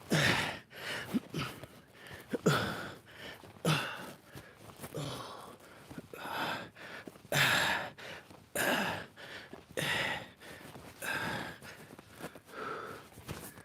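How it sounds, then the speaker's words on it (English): Heavy, repeated breaths after land-based surf exercises, loud and close, with gasps and sighs coming in uneven bursts for over ten seconds and no talking. "Sorry for the breathing, people."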